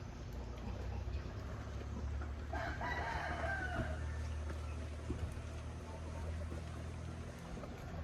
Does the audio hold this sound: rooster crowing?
yes